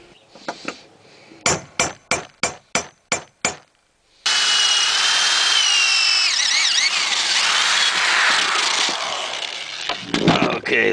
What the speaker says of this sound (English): And you want to drill it at that 30-degree angle.